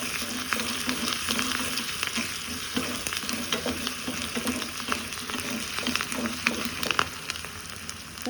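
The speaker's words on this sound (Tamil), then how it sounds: "கருவேப்பிலை, துளிர் கருவேப்பிலை, பெருங்காயம் போட்டு நல்லா வதங்கணும்." Curry leaves and asafoetida sizzle and fry steadily in a pan for sambar, with the scrape of stirring throughout and no talking.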